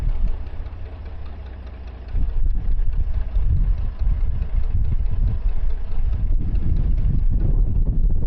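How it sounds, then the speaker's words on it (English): Strong wind buffets the microphone aboard a narrowboat on the Oxford Canal near Napton, a loud steady roar that gusts harder partway through, with a faint engine hum underneath. "That wind through there is shocking. It's like a wind tunnel."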